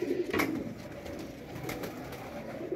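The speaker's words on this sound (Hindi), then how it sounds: "ये कबूतर चेक करें ज़रा" A pigeon coos softly a few times at close range, low throaty calls over a quiet outdoor background, among birds kept for a pigeon-flying contest.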